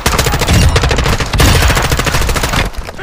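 Rapid automatic gunfire from the Call of Duty Warzone DMZ video game in Al Mazrah, loud sustained bursts of machine-gun fire with overlapping shots, dropping off briefly near the end.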